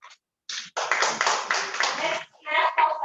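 An audience at a national-level oratory contest breaks into dense, close applause after a speech, clapping steadily for a couple of seconds, then fading before a few more scattered claps.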